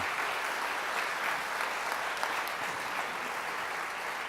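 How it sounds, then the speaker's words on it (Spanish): A church congregation applauding during a Sunday service, steady dense clapping held at an even, loud level throughout with no break or fade. "Démosle un aplauso fuerte al Señor."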